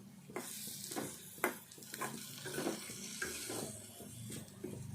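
Eggs fry with ginger in a garlic masala pan, a spatula scraping and tapping in a steady rhythm over a low, continuous sizzle, heard up close with nobody speaking.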